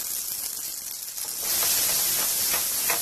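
Onions frying over a low flame in a pan with curry leaves and red chillies give a steady hiss that swells into a louder, fuller sizzle partway through, with no voices.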